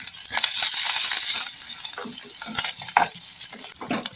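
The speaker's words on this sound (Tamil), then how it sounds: "வெங்காயம் பச்சை மிளகாய் வதங்க வேணும்." Onions, green chilies, fennel seeds and curry leaves frying in hot oil give a steady crackling sizzle, with a few sharper spatters and stirring clatters near the end.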